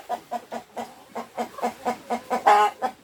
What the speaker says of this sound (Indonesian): Ini jagonya, ini ayam jantannya.